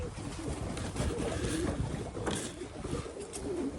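Racing pigeons coo and flutter close by in a loft, low throaty calls mixed with rustling and wing noise, over steady background rumble.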